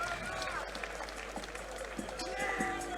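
Crowd at an MMA fight event applauding and cheering after a unanimous-decision win, a steady wash of claps and voices from a large room, continuous and fairly distant.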